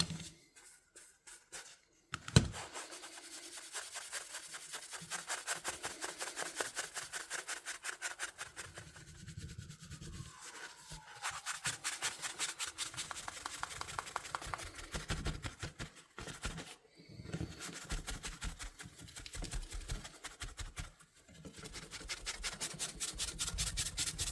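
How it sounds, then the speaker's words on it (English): Vintage Utica Knife Company Girl Scout featherweight pocket knife being polished with Mothers polish, a steady scratchy rubbing that runs in continuous strokes with a few brief pauses, close and fairly quiet. "Let's give it a polish with some mothers."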